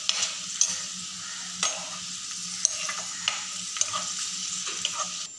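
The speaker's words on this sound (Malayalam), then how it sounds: "അപ്പോൾ നമുക്ക് അണ്ടിപ്പരിപ്പും മുന്തിരി വറുത്തെടുക്കാം" Cashews and raisins frying in hot fat in a pan, a steady close sizzle with regular scraping clicks of a spoon stirring, and no talking.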